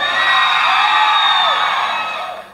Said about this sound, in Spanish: ¡Aplauso para Denise!